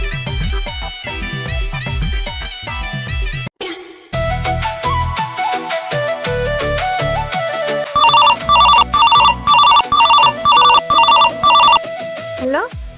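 A phone ringtone sounds before a call, a bright melodic tune with repeated electronic ringing pulses over music, loud and continuous.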